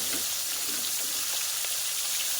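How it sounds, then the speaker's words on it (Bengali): Small koi fish fry in hot oil, giving a soft, continuous crackling sizzle with scattered pops, fairly quiet and steady throughout. "তারপর ফার্স্টে আমি কই মাছগুলো অল্প ভাজা করে নিই"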